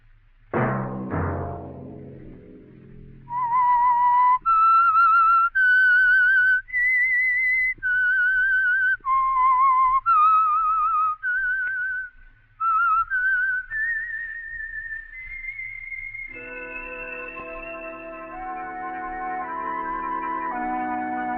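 A clear, loud whistled melody on a radio program, a sequence of sustained pitched notes carrying a tune, ending with a sustained musical chord.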